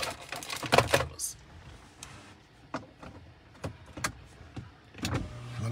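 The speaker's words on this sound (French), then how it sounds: "je ferme un peu les fenêtres parce qu'il pleut un peu chez nous ici maintenant" A car's power windows whir shut during light rain, several short mechanical motor bursts and clicks spaced irregularly, close by in the cabin, with faint movement noise between them.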